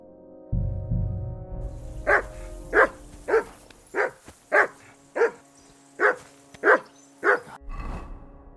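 A dog barks in the Kingdom Come Deliverance 2 video game, ten loud, evenly spaced barks close by after a brief low rumble, with no voices over them.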